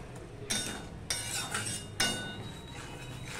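A spoon stirs sour yogurt in a cooking pan on low heat, metal scraping and clinking against the pan in three or four distinct strokes, fairly faint, with a soft background hiss and no talking.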